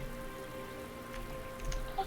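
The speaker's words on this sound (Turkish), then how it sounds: "Yağmur." Rain falls steadily in the survival game Dark and Light, a constant hiss of drops with a faint tonal game background and no talk.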